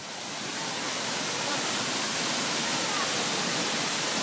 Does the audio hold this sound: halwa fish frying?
no